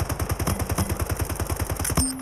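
Rapid automatic gunfire in the video game SplitGate, a fast even burst of sharp shots close up, stopping just before the end.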